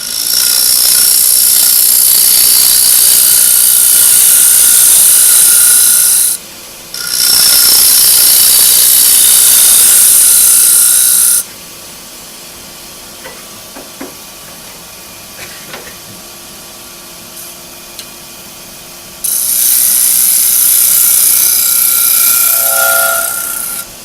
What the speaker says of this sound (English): You run it across the grinder, and it just takes out little shavings.